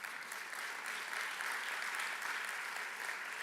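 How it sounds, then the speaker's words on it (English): Audience applause at an investment conference in Jamaica, a steady, even wash of clapping from a crowded room, heard from a distance and sustained throughout. "Round of applause."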